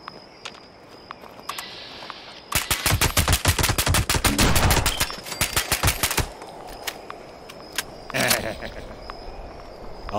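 Bursts of rapid AK rifle gunfire crack outdoors over a steady background of insects, with a long loud volley, a shorter follow-up burst and a few scattered single shots afterward.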